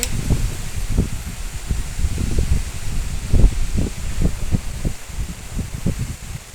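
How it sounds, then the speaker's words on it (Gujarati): Strong gusty windstorm wind roars through trees and buffets the microphone in repeated low thumps, with leaves rustling throughout. "જો અહીંયા કેવું વાવાઝોડું છે ફૂલ સ્પીડમાં પવન છે"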